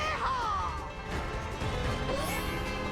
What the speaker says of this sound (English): Especially since he's like crashing into everything.